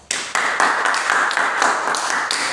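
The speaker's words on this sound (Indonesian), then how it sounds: "tepuk tangan dulu untuk kalian semua" Students in a classroom clap their hands together for a couple of seconds, loud and close, with the claps blurring into a dense burst and a few sharper hits standing out.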